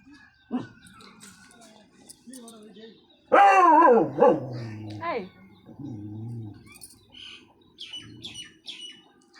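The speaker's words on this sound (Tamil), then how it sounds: "நாய் கொலிக்குதா நாய் கொலிக்குதாடா" A dog barks in a home setting, a few loud yelps and barks clustered mid-clip amid chatter, with people talking around it and faint bird chirps in the background.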